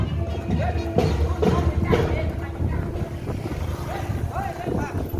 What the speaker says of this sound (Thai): ลมแรงมาก ถือกล้องยังพัดเลยนะคะ